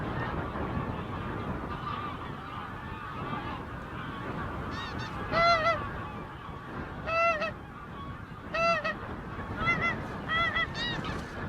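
Wild geese honk in bursts of several overlapping calls over windy, rough outdoor noise during wildfowling in freezing conditions in Orkney. The calls come and go at a moderate distance, with pauses between the flurries.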